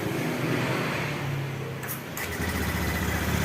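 A motorcycle engine with a crank position sensor fault, being cranked by its electric starter and running in a workshop, giving a steady continuous engine drone throughout with a brief dip in the middle.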